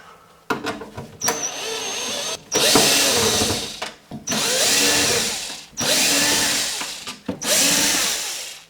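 Power screwdriver backing screws out of a bread maker's plastic casing, running in four or five loud whirring bursts of about a second each, separated by short pauses and clicks, close up.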